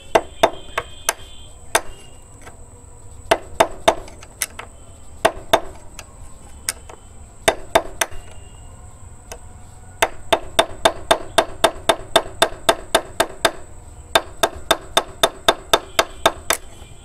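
A hammer lightly taps the handle bearing nut on a scooter, giving sharp metallic ticks in uneven runs with short pauses, growing into fast steady series of taps toward the end.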